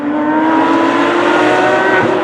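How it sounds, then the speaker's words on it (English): Porsche 911 RS fitted with a custom Champion Motorsport tube exhaust, a loud steady engine drone that holds a constant pitch for a couple of seconds, close up and with no talk. "this car has a custom tube exhaust from Champion Motorsport over here, and it is quite impressive"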